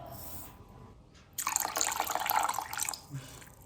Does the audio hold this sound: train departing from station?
no